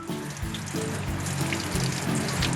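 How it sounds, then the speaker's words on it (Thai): Tap water runs over eyeglasses with blue-light filter lenses as they are rinsed, a steady close hiss of flowing water with slight shifts as the glasses move under the stream. "แล้วก็ให้น้ำไหลผ่านไป อย่างนี้เลยนะครับ"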